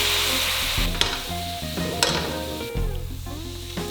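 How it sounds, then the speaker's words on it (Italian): A pan deglazed with vinegar and beer hisses with a steady, broad sizzle while something stirs and scrapes against it, with a few sharper bursts as the liquid hits the hot metal. "E deglassiamo subito la padella."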